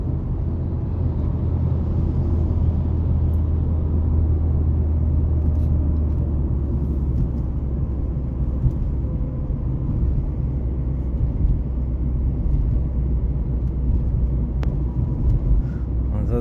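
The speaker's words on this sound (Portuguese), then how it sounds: "de alta você vê o barulho do ar entrando" A Ford Focus engine fitted with individual throttle bodies gives off a steady, loud, low rumble with an intake roar, holding evenly throughout without clear revving or talk.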